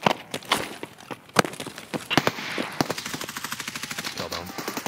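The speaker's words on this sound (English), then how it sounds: "they're shooting at a guy that's wrapping around" Rapid automatic gunfire in the video game Escape from Tarkov during a fight with the boss Killa, with sharp close bursts and then a steady, fast stream of shots, loud and without talk.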